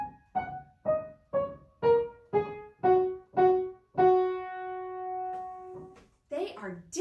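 Keyboard phrase, about eight detached notes stepping down, then a final low note held and left ringing, with a bounce at the bottom. Played clearly on its own before a voice begins speaking.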